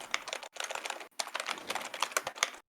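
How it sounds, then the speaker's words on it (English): Loud, rapid typing on a computer keyboard, a dense run of close clattering keystrokes with two brief pauses, heard alone with no talk. "you are typing very loudly"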